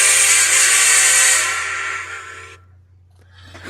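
A model train's steam-style whistle blows loud and sustained for about two and a half seconds, then cuts off abruptly, leaving faint background hum and a little noise near the end.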